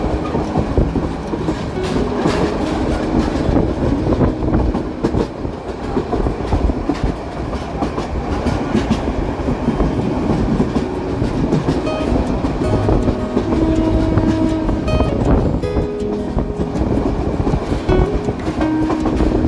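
The Kishoreganj Express passenger train runs steadily on the rails near Tongi Junction, with a loud continuous rumble and rhythmic clickety-clack of wheels over joints, plus occasional faint squeals, and no voices.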